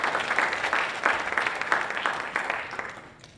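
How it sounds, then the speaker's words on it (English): An audience at a healthcare interprofessional panel event gives a round of applause, a dense steady clatter of many hands that holds for a few seconds and then fades away. "let's give them a round of applause for just having us"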